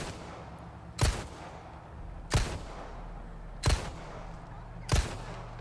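Gunfire in the video game Resident Evil 4 Remake: four sharp, loud single shots spaced about a second and a quarter apart, each followed by a short decay over a low game ambience.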